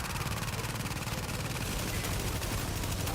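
A turret in The Division fires like a P90 in a rapid, continuous stream of automatic shots, loud and close and evenly spaced for the whole burst, with no talk.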